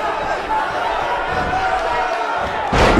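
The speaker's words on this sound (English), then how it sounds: "The crowd is going nuts." Wrestling crowd cheering wildly at an event, a dense continuous roar of many voices, loud and sustained, swelling near the end, with commentary mixed in.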